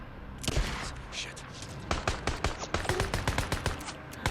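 Bursts of gunfire in the video game Days Gone, with a few sharp shots early on followed by rapid clustered volleys, loud and close, with a voice talking around them.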